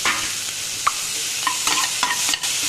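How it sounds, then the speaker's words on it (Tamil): Steady sizzling of ivy gourd sautéing in a pan with a few light clinks and scrapes of a spatula stirring, close and moderately loud, no talking. "கோவக்காயை போட்டு நல்லா வதக்கணும்"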